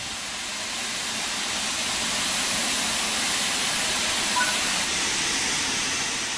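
A Stanier Jubilee Class 6P steam locomotive in the Train Sim World 3 video game gives off a loud, steady, broad hiss of steam that carries on unbroken throughout.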